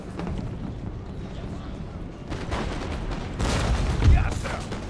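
Musket volleys from line infantry and grenadiers in Empire: Total War, a continuous crackle of massed gunfire that swells into louder ragged bursts and a thump near the end, beneath battlefield din.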